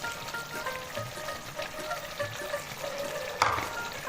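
Fried potatoes tipped into a simmering mutton curry (railway-style) and stirred: soft sizzling bubbles with a few scraping strokes and one sharp clink from the utensil near the end, with no voices.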